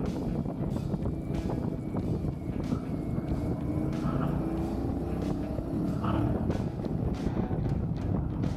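A motorcycle rides along a road with a steady engine drone under heavy, constant wind rush, the sound close and continuous throughout.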